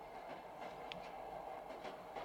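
A train rolls steadily along the rails, a low continuous rumble with faint rhythmic clicks of the wheels, heard from inside the carriage at a soft level.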